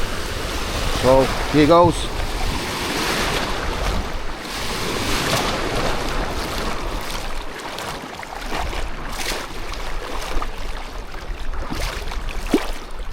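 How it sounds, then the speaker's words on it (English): Surf on a white sand beach at Khao Lak, Thailand, washes steadily as someone wades into the sea, with wind buffeting the microphone and a brief spoken remark near the start. "what I'm going to do now is just walk in the sea and have a quick dip."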